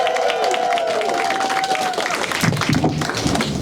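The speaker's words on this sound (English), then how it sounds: "please put your hands together again, raise the roof, give loads of love for Chris Leoyen" An audience applauds a comedian being introduced at an Edinburgh Fringe comedy competition heat: dense, steady clapping from a crowd that holds at full strength throughout.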